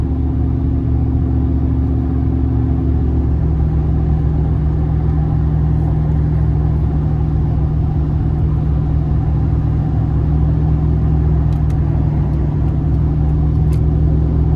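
A 2004 Chevrolet Silverado regular cab with a 4.8 V8 and modified exhaust and intake rumbles loudly while driving, a deep, steady engine drone with a slight pitch change early on, heard from inside the cab.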